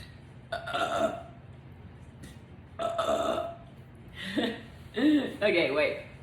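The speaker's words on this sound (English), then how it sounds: "I burped about it." A person burps several times, short throaty belches spaced across a few seconds, close and loud, with chuckling and voiced sounds between them.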